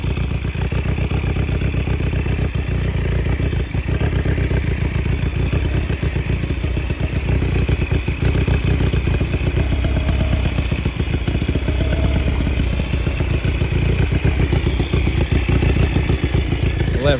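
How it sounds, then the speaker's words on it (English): A 1980 Honda 250 custom flat tracker, built from a salvaged CB250, with its engine running loud and close in a steady rough clatter, with light revving and no talk. "ain't nobody in the comments heard a Honda Rebel engine sound like this."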